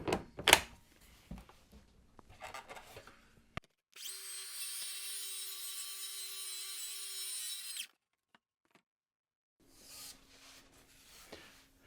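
Circular saw cutting plywood for stackable utility boxes: handling clatter and knocks, then a loud steady cutting whine for about four seconds that stops abruptly, followed by quiet and a shorter, fainter motor run.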